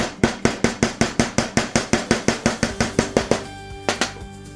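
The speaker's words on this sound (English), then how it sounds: "So if I can tap them in place." Metal pins being tapped into a DIY blade-style pizza cutter of metal and wood, about twenty sharp, evenly spaced hammer strikes in quick succession, ringing slightly, then two final taps after a brief pause.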